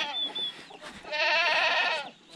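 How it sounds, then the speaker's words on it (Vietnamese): Goats in a pen on a Vietnamese livestock farm bleat nearby: a short thin cry, then one long, loud, wavering bleat standing alone. "Tí nữa là bắt dê chuồng này."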